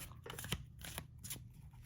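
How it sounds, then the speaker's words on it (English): Quiet riffling and soft slapping of tarot cards being shuffled in a few quick bursts, close by and faint. "get our shuffle going on"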